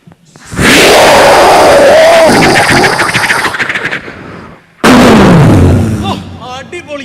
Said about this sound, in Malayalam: ഒരു അടിപൊളി വെടിക്കെട്ട് മഹാമഹം അവസാന ഇനം കാണിച്ചിട്ട് നമ്മുടെ വെടിക്കെട്ട് അങ്ങോട്ട് അവസാനിപ്പിച്ചേക്കാം